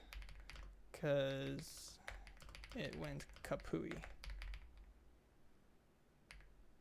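Rapid computer keyboard typing at a Linux terminal during programming, with dense irregular key clicks spread throughout and a person talking over the first half.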